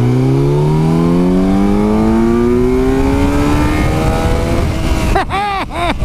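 A 2017 Kawasaki Z900 motorcycle engine revs up steadily, its pitch climbing for several seconds, then sputters through a few quick throttle blips at the end, loud and close.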